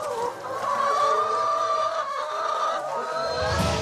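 Hens cluck and murmur continuously nearby in the village of Correns, France, a dense, warbling chorus of fowl calls with no clear pauses.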